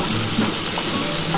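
Onions fry in hot oil for a green amaranth stir-fry, a dense, loud, unbroken sizzle heard up close with no voices.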